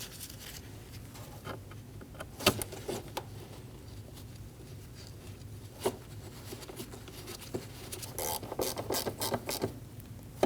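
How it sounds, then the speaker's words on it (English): Soft ratchet clicking, sparse at first and busier toward the end, as bolts are snugged down on the front air dam of a 2012-2022 Volkswagen Passat 2.5L; faint and close, with no voices. "Snug the bolts down."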